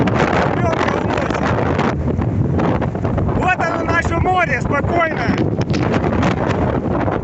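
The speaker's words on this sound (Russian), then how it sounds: "Ветер штормовой" A loud, constant roar of storm wind batters the microphone on the Black Sea shore while someone speaks over it.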